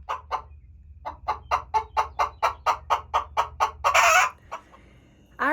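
Chickens in a dirty chicken coop cluck in a quick, even series of about a dozen sharp, close calls, ending in one louder drawn-out squawk, with low farmyard hum beneath.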